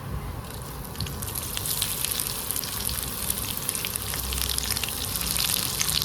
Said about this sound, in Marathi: खोबरं टाकलेलं आहे त्याला थोडंसं भाजून घेऊया